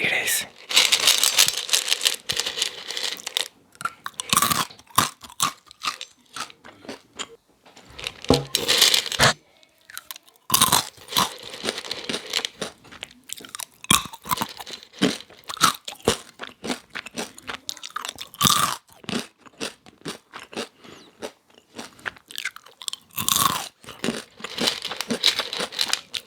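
Crunchy coconut-flavored coated peanuts being chewed close to the microphone, sharp loud crunches in irregular bursts separated by quiet gaps, with crinkly bites and rattling between chews.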